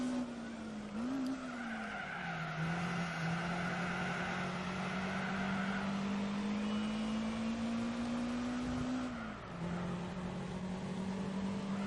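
Ginetta G4 racing in Gran Turismo 4, a British lightweight series event: a steady engine drone with shifting pitch and tire squeal, loud and continuous, with brief dips as the car changes gear, and no talk.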